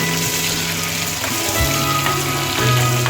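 Ginger and spices frying in hot oil for a dal tempering give a steady, close sizzle that holds evenly throughout with no voices.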